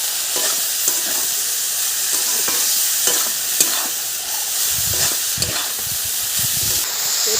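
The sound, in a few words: frying leafy greens (gime shak) in a pan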